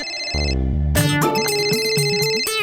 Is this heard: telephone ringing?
yes